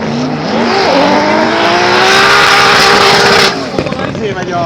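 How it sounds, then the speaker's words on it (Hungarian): A Subaru Impreza drift car fitted with a turbo engine revs hard and loud, its note climbing and sustaining at high pitch before cutting off abruptly with a brief sputter. "Massimo Kekin, aki egy M3-as turbo motorral szerelt Imprezát kormányoz"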